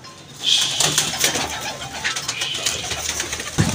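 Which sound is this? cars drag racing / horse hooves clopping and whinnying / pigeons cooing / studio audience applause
pigeons cooing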